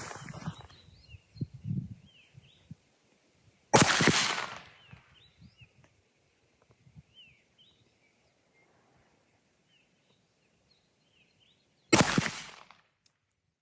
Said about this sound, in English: Now I'm just going to see where this Glock is shooting this ammo.